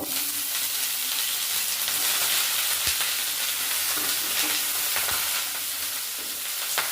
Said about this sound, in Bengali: ব্রকলিটা আমি ভালো করে ভেজে নেবো